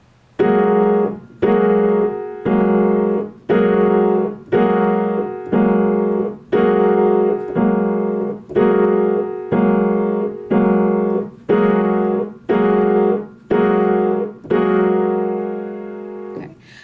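Piano chords played in a steady, repeated rhythm on clusters of black keys, loud and ringing, with about a dozen evenly spaced strikes.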